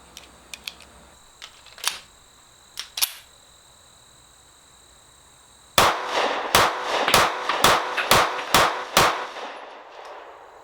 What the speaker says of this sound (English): there's my 7 shots, rapid fire headshots